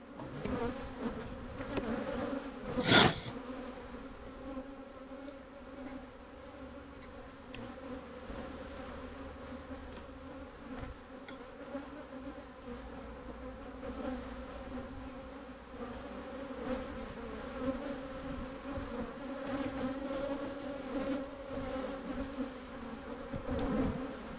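Honeybee colony buzzing inside a hive, a steady low hum running throughout with a brief louder burst early on.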